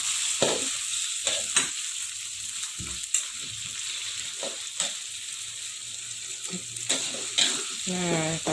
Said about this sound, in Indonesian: Nah, kita tumis ya teman-teman sampai dia betul-betul wangi teman-teman.